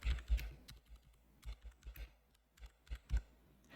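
Someone types on a computer keyboard nearby, with quiet, irregular key clicks and taps in short clusters separated by brief pauses.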